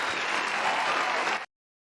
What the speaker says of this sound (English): Clap. That deserves a clap.